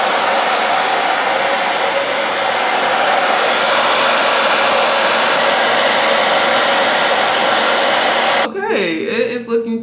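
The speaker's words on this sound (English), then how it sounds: "And let's blow dry this." Hair dryer blowing steadily on a lace front wig, a loud close continuous whoosh that cuts off near the end, with a voice briefly audible after it stops.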